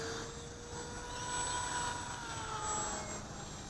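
An AXN radio-controlled model airplane flies in calm conditions outdoors, making a steady high-pitched electric motor whine that swells slightly and stays continuous throughout, at a moderate distance with no talking.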